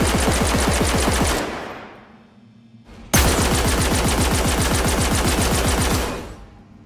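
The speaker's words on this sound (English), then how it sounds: "Alongside the first-person weapon sounds, we also recorded the weapons at various distances." Rapid automatic gunfire from first-person weapons in the Star Citizen game, a loud sustained burst that stops, a short gap, then a second long burst of dense repeated shots.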